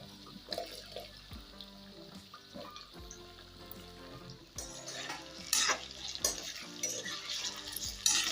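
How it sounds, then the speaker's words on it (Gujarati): Sweet potato and yam pieces frying in hot oil for Kathiyawadi undhiyu, a steady sizzle with stirring clatter and utensil clinks throughout, growing busier and louder toward the end. "તો હવે આપણે શક્કરિયા અને રતાળું બે તળી લેશું."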